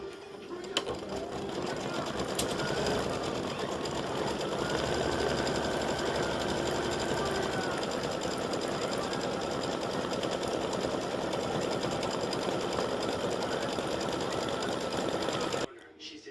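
An in-the-hoop embroidery machine stitches accent lines along the top and bottom of a mug rug, a continuous rapid rattling hum that runs loud and steady before stopping abruptly near the end.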